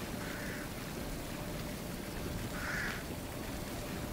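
A bird call in the video game Fortnite: two short cawing squawks, one early and a louder one near the end, over steady game ambience.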